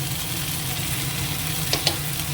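Ginger and garlic paste fries in a pan with a steady, soft hiss of sizzling oil, broken by a couple of faint clicks from stirring.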